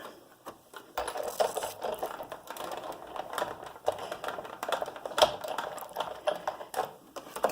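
Die-cutting machine rolling a Thinlits doily design plate through, giving a busy run of rapid clicking and ratcheting with small metallic knocks, fairly quiet and close.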